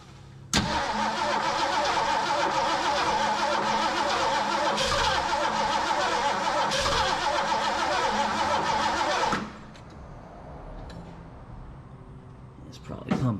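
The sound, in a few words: old car engine cranking and running with a knocking noise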